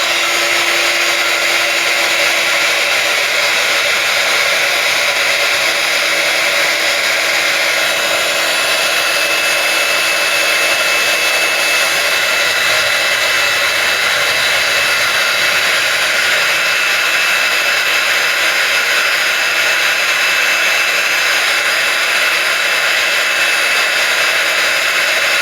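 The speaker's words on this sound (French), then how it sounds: "vous allez un petit peu entendre le pistolet chauffant pour pouvoir" A heat gun melts embossing powder with a loud, steady whirring blow of fan and air that holds at one unbroken pitch for the full 25 seconds, close and unaccompanied.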